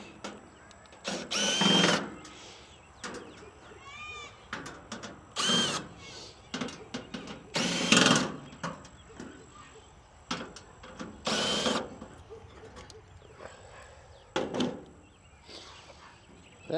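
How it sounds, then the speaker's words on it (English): A power drill whirs in several short bursts while removing screws from an air conditioner's fan motor, with quieter clicks and handling noises between them, up close. "we're going to do that using a drill."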